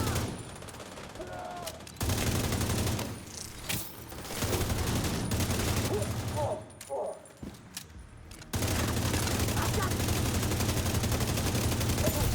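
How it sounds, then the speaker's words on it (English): Video game gunfire and explosions crackle in dense, loud bursts with rapid automatic fire, broken by a few short quieter gaps. "finally one of those explosions"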